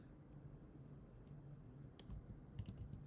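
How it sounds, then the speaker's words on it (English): A few quick clicks of computer keys come up faintly over low room hum, sparse and close, with no talking. "let me type I for insert"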